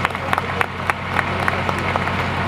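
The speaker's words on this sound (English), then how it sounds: "Give them a round of applause." A small crowd claps for guests at a traditional wedding party, scattered and moderate claps over a steady low hum, brief and somewhat distant.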